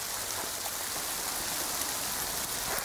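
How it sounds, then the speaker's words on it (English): Steady rain, with hail mixed in, falls outdoors as a dense, even hiss that holds at the same level from start to finish, with no voices over it. "Starting to rain and hail, guys."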